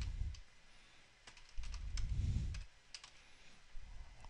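Fingers typing a Dropbox login on a computer keyboard, a few scattered quiet key clicks and taps at close range with low rumbling handling noise between them.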